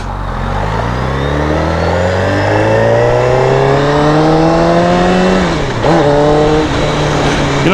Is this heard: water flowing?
no